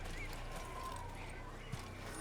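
Horse hooves clip-clop along with a faint whinny in Assassin's Creed, quiet and steady, set against a low background hum and murmur.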